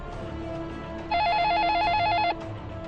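A telephone rings once with a warbling electronic trill lasting about a second, loud and close, set against a quiet room background.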